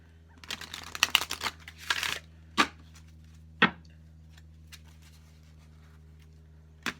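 Tarot cards are shuffled in a quick riffling burst, followed by a few sharp taps and clacks as the deck is squared, over a steady low hum.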